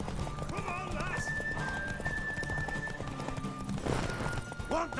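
Horse hooves clip-clop at a gallop in The Witcher 3: Wild Hunt, with neighs and whinnies over a busy game soundscape of music and effects while people talk throughout.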